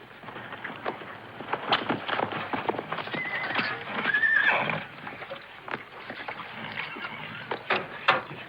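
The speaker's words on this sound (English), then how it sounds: "I need a couple of fresh horses" A horse whinnies with a rising, quavering call amid hoof clops and shuffling, recorded with a thin, muffled quality, from the 1946 Western film My Darling Clementine.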